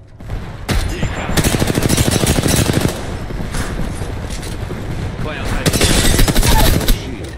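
Gunfire rattles in Apex Legends as long rapid automatic bursts alternate with sharp single shots, loud and close, with brief pauses between volleys and game voice lines spoken over the action.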